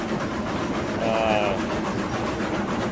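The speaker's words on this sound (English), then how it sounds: "One locomotive, 10 coal cars. Looks like a proper train" Locomotive hauling ten coal cars in the RailRoads Online video game, a steady rumbling clatter of wheels with a brief high squeal midway, constant and fairly close.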